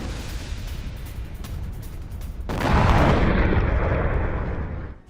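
A heavy blast in war footage from the Russia-Ukraine conflict, apparently at a shopping mall: steady rumbling noise, then a sudden loud, broad roar midway that holds for a couple of seconds before fading.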